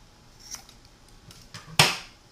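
Fishing line being trimmed while making a cheap vertical jig, a few faint ticks followed by one crisp, close snip near the end, with no talking.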